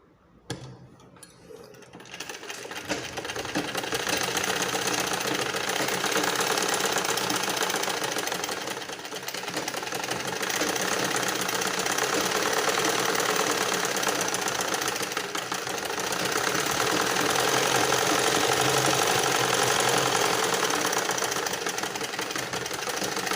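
Sewing machine stitching the lining of a matching blouse, running in a steady continuous mechanical whir and rattle for most of the span after a brief quiet start, loud and close with no talk over it.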